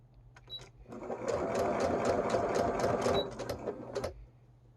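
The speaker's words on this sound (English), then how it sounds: "let the machine fold that bias tape and run it through" A sewing machine fitted with a bias binding foot stitches bias tape in one steady run of rapid, close mechanical chatter lasting about three seconds, starting and stopping with a few slower clicks.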